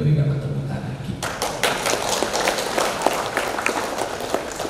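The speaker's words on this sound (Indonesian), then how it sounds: "Dan berikanlah tepuk tangan kita." An audience applauds at an umrah pilgrimage preparation gathering: a steady, dense patter of clapping starts abruptly after a moment of talk and continues fairly loud and close.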